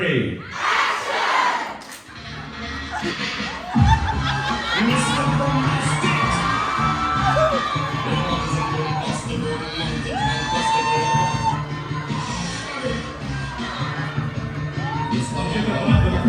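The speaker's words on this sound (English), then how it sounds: "Get the bump of the crowd again." A convention crowd cheers and shouts loudly for Jared Padalecki after a countdown, sustained yelling, whooping and high-pitched screams that rise and swell across the whole stretch.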